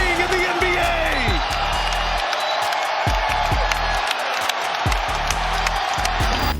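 A packed basketball arena erupts after Stephen Curry's record-breaking three-pointer, a loud, sustained roar of cheering, whooping and clapping with sharp shouts and horn-like tones, while a voice talks over the noise.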